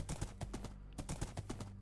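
Horse hooves clip-clop in the video game Life in the Woods, a steady run of close, distinct hoof strikes with a brief pause midway, heard alone without talk.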